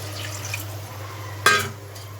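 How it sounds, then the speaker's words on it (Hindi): Water is poured into masala frying in a pan while cooking taro leaf curry, giving one brief, sharp sizzling splash midway through a quiet kitchen hum. "इसके अंदर मैं डाल रही हूँ पानी"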